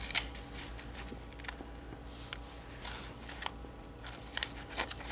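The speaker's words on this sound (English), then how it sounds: "let me get my scissors over here" Scissors snip through paper for a glucose cutout in a classroom lab, quiet close crisp cuts in irregular bursts with a few sharper snips near the end, no talking.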